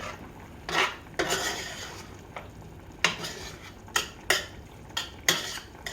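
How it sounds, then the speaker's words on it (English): A spoon scrapes and clinks around a pot of Coney sauce in a series of irregular metallic strokes, loud and close, with no talking. "Mix that in real good."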